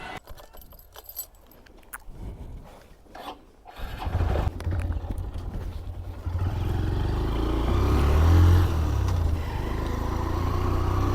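A motorcycle is started in a rural area beside potato fields after a few seconds of jingling keys and handling noises, then its engine idles and revs with a steady low rumble, close by.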